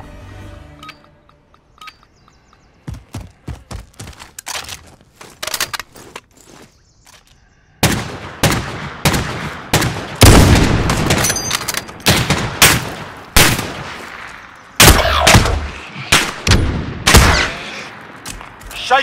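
Gunfire in the video game Call of Duty: Modern Warfare, first scattered single shots, then loud rapid bursts and automatic fire close up with sharp cracks and booms through the second half.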